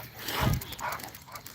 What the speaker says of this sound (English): He's a good dog until he sees another dog, and then it's just Cujo